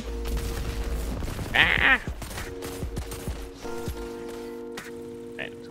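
Gunfire from a weapon in Destiny 2 cracks in short bursts amid game sounds, with a player's brief exclamation heard over it.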